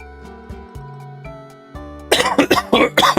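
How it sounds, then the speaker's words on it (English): A person coughs in a quick burst of several harsh, loud coughs close to the microphone, breaking in over soft video game music. "This stupid cough."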